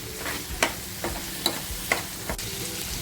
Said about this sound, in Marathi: लाल झाल्यानंतर टॅमॅटो टाकतीये टॅमॅटो बघा मी एकदम बारीक केलेला नाही आहे